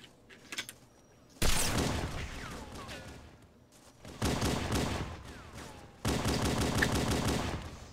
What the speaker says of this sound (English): that shotgun is loud!